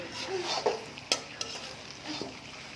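Beef kala bhuna stirred and fried in a pot: quiet sizzling under scraping stirs, with a few sharp metallic clinks of a spoon against the pot, irregular and close.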